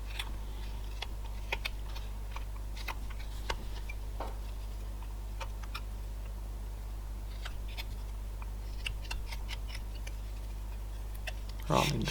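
Knife whittling a block of wood against the grain, carving a figure's rounded head: faint irregular scraping ticks and small cuts over a steady low hum, close but quiet.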